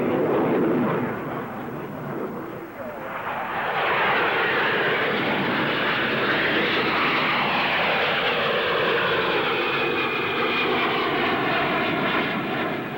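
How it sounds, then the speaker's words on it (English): A Hawker P.1127 jet with a Pegasus vectored-thrust turbofan passes overhead, a loud, sustained roar and hiss that swells and shifts in pitch as the aircraft maneuvers and climbs. "First of a new breed of aircraft, the P-1127, powered by a vector thrust turbofan engine, shows its paces with a neighborly hunter"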